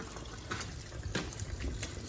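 Water flushes through a reverse osmosis filter system from China, a steady faint hiss and trickle with small gurgling surges.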